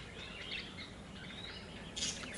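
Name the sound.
wild birds calling while being fed in the morning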